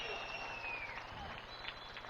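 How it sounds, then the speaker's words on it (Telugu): Steady applause from a large outdoor audience at a ceremony for a dam concrete works, a dense continuous wash of clapping filling the whole stretch at moderate level. "మీరు కూడా గట్టిగా చప్పట్లు కొట్టి ఆశీస్సులు ఇవ్వాలి"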